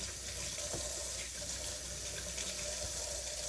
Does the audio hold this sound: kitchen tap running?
yes